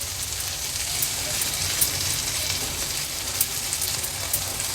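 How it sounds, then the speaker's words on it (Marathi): Prawns sauté in a spicy thecha chutney over a medium gas flame, giving a steady, close, crackling sizzle with small pops throughout and no talking. "व्यवस्थित ह्या ठेच्यामध्ये आपल्याला त्याला परतून घ्यायचं आहे।"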